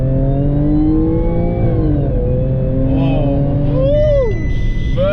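Tuned Audi A7 3.0 TFSI pulling hard under acceleration, engine note climbing steadily, dropping at a gear change and climbing again, loud and close from inside the car.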